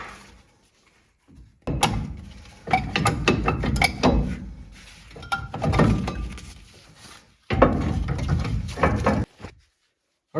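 A ratchet works on the brake caliper of an 88-98 Chevrolet C1500 truck. Bursts of close, clicking ratchet strokes come in irregular runs, with metallic knocks and short pauses between them.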